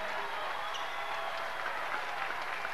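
Steady applause from a crowd for the champion pair at a padel world championship final in Argentina, a continuous dense patter of clapping that holds at an even level throughout.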